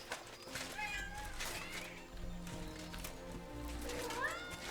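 Several cats meow repeatedly in Kingdom Come: Deliverance II, short rising and falling cries close by over a low background, with a voice talking in between.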